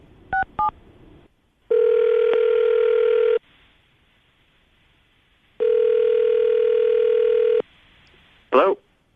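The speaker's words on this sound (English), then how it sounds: "I'm about to dial the phone number you gave us" Telephone call placed on a radio show: two quick keypad tones, then two long ringback tones separated by a silent gap, ending with a short click-like burst as the line connects.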